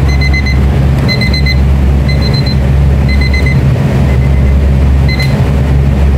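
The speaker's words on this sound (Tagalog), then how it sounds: "biglang nag-timer itong aking niluluto" In a kitchen, a cooking timer goes off with repeated bursts of high electronic beeps, about once per second, over a loud steady hum from nearby appliances.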